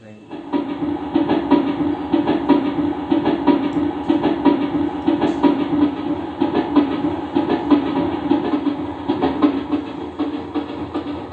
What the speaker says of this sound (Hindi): ट्रेन की आवाज देखिए, ट्रेन